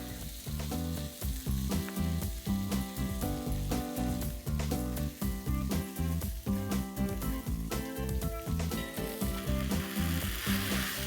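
Chopped tomatoes sizzle in butter in a pot for tomato soup, with a continuous frying hiss under a rhythmic background of music.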